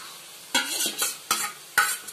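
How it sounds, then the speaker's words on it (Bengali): Boneless marinated chicken for a yogurt almond curry hits a hot pan with sharp sizzling bursts and a spatula scraping and stirring in several quick strokes, close and loud with no talking. "এবারে আমার ম্যারিনেট করা চিকেনটা দিয়ে দিচ্ছি"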